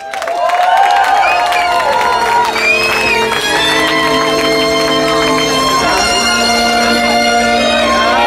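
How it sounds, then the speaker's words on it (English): Wedding guests at a disco near Salisbury, Wiltshire clap and cheer for the newlyweds over loud playing music, with whoops and shouts rising above the dance track throughout. "Another huge round of applause"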